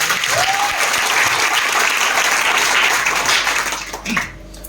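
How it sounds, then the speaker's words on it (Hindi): Loud, dense applause from a seated training audience fills the room for about four seconds, then thins out and fades near the end. "तो सर को जोरदार हाथ ताली सर के।"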